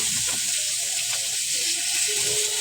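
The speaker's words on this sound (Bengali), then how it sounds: "মূলাগুলিকে প্যানে দিয়ে অল্প একটু লবণ হলুদ দিয়ে হালকা করে ভেজে নেব" Radish pieces fry lightly in a pan with a little salt and turmeric, alongside river rohu fish, giving a steady, close hiss and sizzle that runs throughout with no talking.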